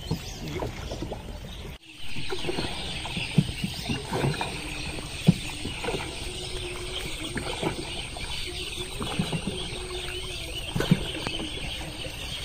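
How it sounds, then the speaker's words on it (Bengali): Birds call at dusk in the Sundarbans mangrove forest, heard from a boat on the river: scattered short chirps over a low, steady background hum, with the calls irregular and moderately distant. "পাখি ডাকছে রে"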